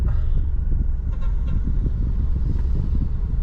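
Busy road traffic rumbles continuously with passing vehicle engines, and a few short horn toots cut through the steady low noise.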